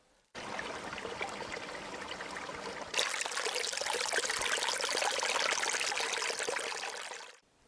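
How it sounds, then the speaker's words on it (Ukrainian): Small mountain stream trickling in the Carpathian forest, a steady, close, continuous babble of running water with no voices, growing slightly fuller partway through. "Тече, журчить, гарно так, струмочок."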